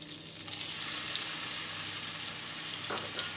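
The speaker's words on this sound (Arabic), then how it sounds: "غنسيطوه شويه في الزبده" Calamari sautéing in butter in a pan, a steady soft sizzle and crackle that runs without pause, with a faint scrape of stirring near the end and no one talking.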